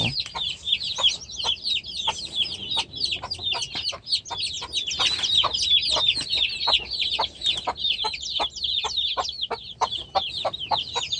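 Four-week-old chicks cluck and peep constantly in a busy, overlapping chatter, loud and close, with no one speaking.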